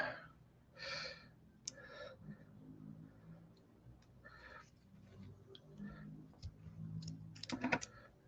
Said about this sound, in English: These scissors are pretty bad.